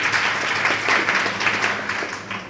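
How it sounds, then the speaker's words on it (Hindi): Audience applause at a public talk fills the moment, dense steady clapping from a crowd close by, with no speech over it. "एक बार फेसबुक के लिए तालियां बजा दीजिए"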